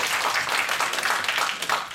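An audience applauds to welcome a guest speaker at a lecture on Taiwanese democracy, a dense, steady wash of many hands clapping close by, without pause, for about two seconds.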